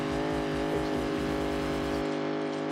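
A drift car engine in the BeamNG video game hums at high, steady revs with a pulsing rattle in the low end, then the low rumble drops away abruptly near the end while the upper whine carries on.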